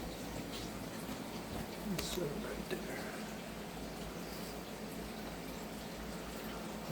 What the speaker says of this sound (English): We're going to kind of see how this water flows.